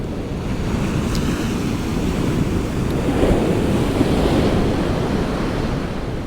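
A south-easterly wind buffets the shore at Kilnsea on England's east coast, a steady roar of gusts and surf with no pauses and no voices.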